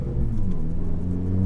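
Inside a 10th-generation Honda Accord with the windows closed, a low, steady exhaust rumble and road drone fill the cabin, muffled and continuous, with no talking.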